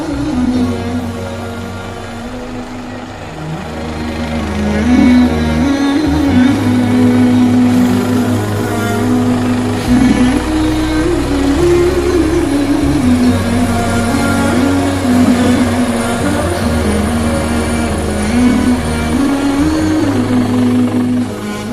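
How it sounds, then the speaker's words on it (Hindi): A large helicopter drones steadily and loudly at a chair lift accident site in Allai, Battagram, its rotor and engine hum filling the whole stretch with a constant low throb. "इस वक्त एक हेलीकॉप्टर, जो कि बड़ा हेलीकॉप्टर है, वो अभी आ गया है"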